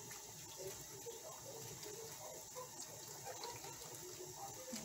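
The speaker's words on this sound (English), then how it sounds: "So I have some boiling water here. I'm gonna pour it." Boiling water poured from a kettle into a pot of Jamaican gungo peas soup, a steady splashing, gushing stream running close and unbroken throughout, with no talk.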